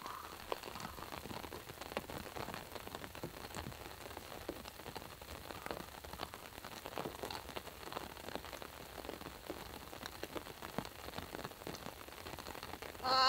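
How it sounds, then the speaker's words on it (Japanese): Heavy rain pours steadily onto a golf course, a dense, even hiss of drops hitting the turf and surfaces around, with no voices. "これもう中止レベルの雨ですね。"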